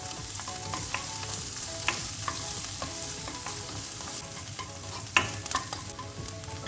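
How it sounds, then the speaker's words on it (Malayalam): Chopped onions sauté in hot oil, making a continuous close sizzle punctuated by repeated spatula scrapes and taps against the pan, one sharper knock near the end. "ഓയിൽ ചൂടാകുമ്പോൾ കട്ട് ചെയ്ത് വെച്ചേക്കുന്ന സവാള ഇട്ട് കൊടുക്കാം. ഇതൊരു ബ്രൗൺ കളർ ആവുന്ന വരെ ഒന്ന് വഴറ്റിയെടുക്കാം."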